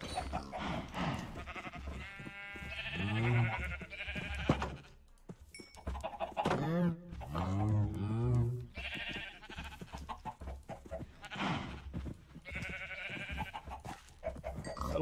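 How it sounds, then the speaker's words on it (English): Sheep bleating in Minecraft, a video game, several wavering bleats spread across the clip, mixed with other game sounds and steady background noise. "Settle down, sheep. I'm here for the cows,"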